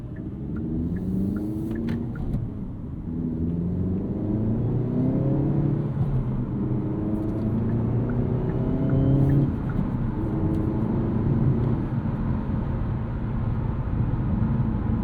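A 2024 Hyundai Elantra N engine with a 6-speed manual rumbles and revs up through the gears while driving, with a low steady drone and rising engine tones, no talking.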